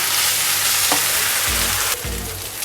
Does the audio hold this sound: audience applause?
no